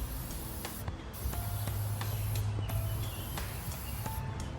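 Close aerosol spraying of Rust-Oleum tire shine comes in long hissing bursts separated by brief pauses, over a low steady background hum.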